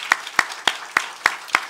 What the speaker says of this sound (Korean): 우리 한번 잘 또 다녀오실 줄로 믿고 박수 한번 하겠습니다